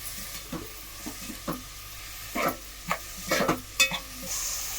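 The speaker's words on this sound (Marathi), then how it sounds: "कांदा चांगला फ्राय करून घ्यायचा आपल्याला" Sliced onions fry in a pan for a Marathi-style chicken rassa, a soft sizzle under intermittent scraping and stirring clatter from a spoon, fairly quiet and close.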